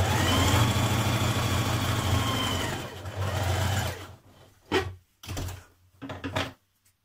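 A domestic sewing machine stitches darts on dress skirt panels, a close steady mechanical whir for about four seconds before stopping, then a few short knocks and fabric handling sounds.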